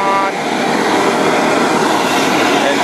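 Twin-engine hot and cold water trailer sewer jetter running and spraying, a loud continuous broadband roar and hiss that stays steady throughout with no pauses.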